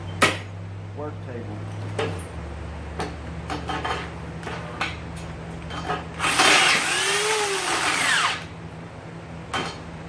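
A power drill bores into a gas jug carrier being built for a Reese hitch. One loud whining burst of about two seconds comes in the middle, set amid quiet workshop clatter and taps.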